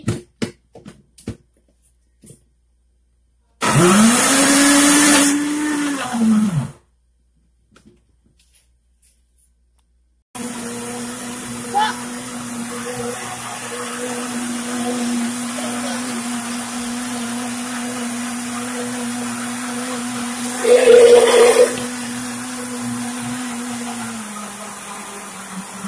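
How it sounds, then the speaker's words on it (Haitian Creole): Kitchen blender whirring while blending cassava, a loud motor burst of a few seconds, a pause, then a long steadier run with a brief louder surge near the end. "Kounya nous va blender."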